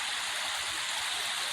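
A small brook rushes steadily through Ogden's Waterfall Canyon, a close, even hiss of flowing water with no voices over it.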